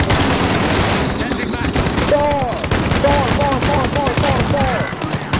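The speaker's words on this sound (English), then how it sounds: "I got a shotgun with flaming round." A shotgun loaded with flaming rounds fires repeatedly in a Call of Duty match, rapid loud blasts over a busy game soundtrack, with a player's voice faintly audible in the mix.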